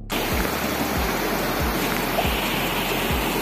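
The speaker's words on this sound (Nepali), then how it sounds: "सानो खोला छ तर एकदमै रिस्की खोला छ" A small, fast mountain stream in Nepal rushes over slippery rocks with a constant close roar of water, broken by faint low thumps every half second or so, and no talking.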